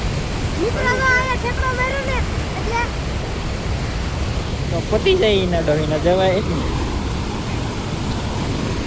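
Water rushes steadily through a brim-full canal, a constant broadband roar close to the microphone, while someone talks over it in two short stretches.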